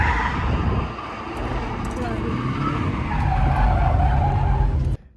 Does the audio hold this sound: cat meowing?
no